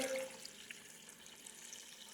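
Water poured into a pressure cooker holding chickpeas for a Lahori chana dish, a steady splashing pour heard up close and fairly faint, running continuously throughout without talk.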